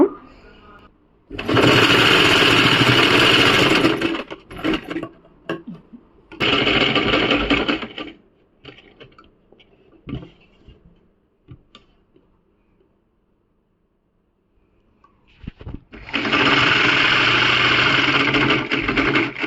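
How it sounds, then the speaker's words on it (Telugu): A home sewing machine stitches a blouse in three separate runs, each a steady, close mechanical whirring lasting a couple of seconds, with quiet pauses and small handling noises between them. "ఈ విధంగా బ్లౌజ్ని ఆ రోజు వర్క్ అంతా అయిపోయిన తర్వాత స్టిచ్ చేసుకున్నాను"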